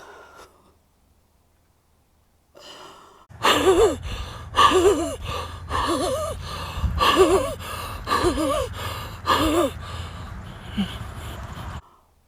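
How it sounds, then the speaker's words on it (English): A runner is out of breath after a run, with a series of loud, rhythmic heavy gasps and panting breaths close to the microphone following a few quiet seconds. "My goodness me. can barely breathe."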